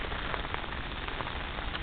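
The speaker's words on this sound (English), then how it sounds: "I quite like getting wet in the rain." Steady rain falls outdoors, making a dense, even patter that stays faint but continuous. No one speaks and no other sounds stand out.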